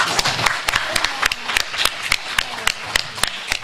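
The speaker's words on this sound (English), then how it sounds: "Let's give them all a round of applause." Audience clapping at a cooperative league awards event, a steady patter of individual claps from a modest crowd, fairly close and continuous for several seconds with no speech over it.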